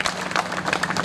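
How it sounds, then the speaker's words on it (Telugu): Audience at a Vasavi youth association swearing-in ceremony clapping together, a brief dense burst of close, busy applause. "అందరూ కూడా కలిసికట్టుగా ఒకసారి చప్పట్లు కొట్టాలని నేను రిక్వెస్ట్ చేస్తాను"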